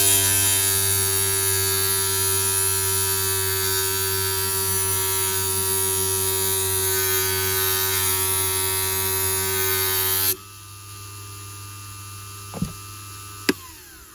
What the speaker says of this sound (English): all I'm doing is pressing the grinding wheel at this point here